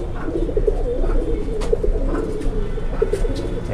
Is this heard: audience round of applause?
no